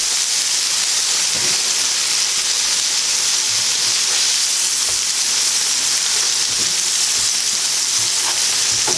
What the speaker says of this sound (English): the juice is starting to bubble like that, that's when you flip it over